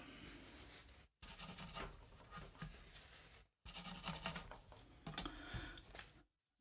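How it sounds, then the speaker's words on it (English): A metal file rasps back and forth on the nut corner of a Gibson Les Paul Junior guitar in dense scraping bursts, broken by two short pauses. "It's just taking a file"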